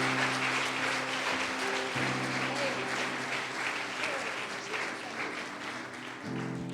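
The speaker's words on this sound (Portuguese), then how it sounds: "Aplauda o nome dEle" A congregation at an Easter service in a Baptist church applauds continuously, a dense wash of clapping over sustained musical tones in the background.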